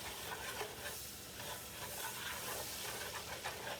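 Butter for a venison and mushroom gravy sizzles in a pan, a faint, steady frying hiss with soft crackling running unbroken throughout.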